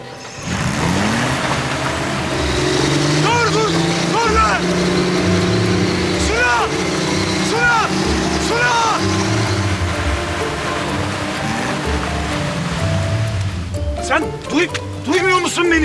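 A car stuck in mud has its engine started and revved, a steady rumbling drone running throughout under loud overlapping voices and shouting.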